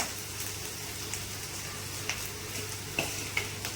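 Rice for Chinese-style veg fried rice stir-fries in a hot pan, a steady sizzle broken by sharp scraping clicks of a spatula against the metal at irregular intervals, with no talk.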